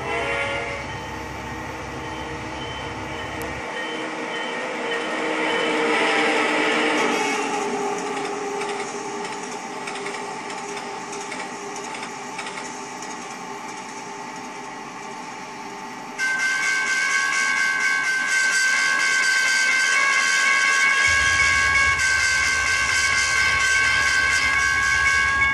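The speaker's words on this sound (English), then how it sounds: "the sound of the train blowing its horn for a railroad crossing" A passing train sounds its horn at a railroad crossing, long sustained blasts over the steady rumble and clatter of rail cars, loud and close throughout with no talking.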